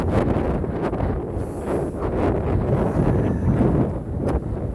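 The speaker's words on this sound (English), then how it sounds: "This is so windy, you guys are probably not able to hear anything" Strong wind at Land's End, a coastal clifftop spot near Sutro Heights, roaring and buffeting the microphone in a loud continuous rumble with gusty surges and no voices.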